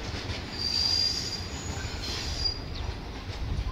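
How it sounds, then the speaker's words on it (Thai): Cement freight train cars are shunted through a silo yard at a Thai railway station, with a long, sharp, high-pitched wheel squeal against the rails over a steady rumbling roll; no voices. "หลังจากพ้นประแจแล้วก็จะทำการดันริ้วเข้าไปอีกครั้งนะครับ"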